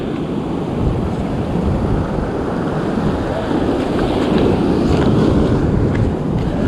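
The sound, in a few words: ocean waves crashing with strong wind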